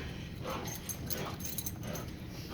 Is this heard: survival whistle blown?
no